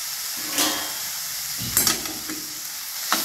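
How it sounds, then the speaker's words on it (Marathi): Ground peanut crumbs stirred into radish greens frying in a pan, a steady soft sizzle with a few sharper scraping stirs rising above it, close and alone. "छान असं मिक्स करून घ्यायचे आपल्याला"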